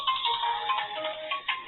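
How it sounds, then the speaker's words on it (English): A phone ringtone plays steadily for an incoming call during a Roblox game stream, a continuous synthetic melody with pulsing notes, moderately loud and alone without talk. "1 second, phone call."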